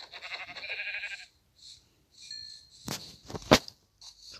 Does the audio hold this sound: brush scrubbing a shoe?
no